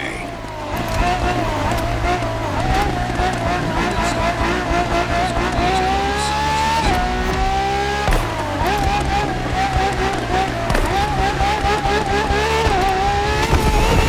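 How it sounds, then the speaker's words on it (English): A Ferrari FXX-K hybrid hypercar races in The Crew Motorfest, its engine screaming loud and close through rising and falling gear shifts, with tire squeal under a narrator's voice. "you'll be driving the FXXK."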